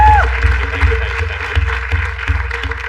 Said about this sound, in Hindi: एक बार जोरदार तालियां वो मिथिलेश लगे भाई